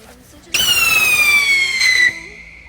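Scream Rocket mini firework launching with a loud, piercing whistling squeal that glides slowly downward in pitch for about a second and a half, then fades out.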